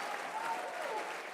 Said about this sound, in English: We applaud the president.